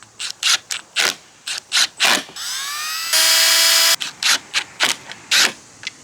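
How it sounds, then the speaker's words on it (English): Short repeated bursts of a power drill pre-drilling holes in wood for campervan cabinets, punctuated by a sustained high whine of the drill spinning up, close and loud. "I'm just gonna pre-drill these holes, fasten them in."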